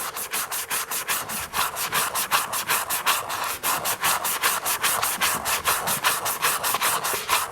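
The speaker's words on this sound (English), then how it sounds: "It's pretty good, but we just take that sheen off. So I've got a worn down bit of 80 grit." Hand sanding a part of a 1960 BSA Bantam D7 motorcycle with a worn piece of 80 grit sandpaper, giving a steady run of close, even rasping strokes in a quick back-and-forth rhythm with no talking.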